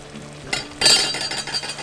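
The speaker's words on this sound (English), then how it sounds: "Now it's starting to bubble" A Tex-Mex skillet of rice and jalapeno slices bubbles away: a close metallic clink of a utensil, then a rush of steady hissing sizzle.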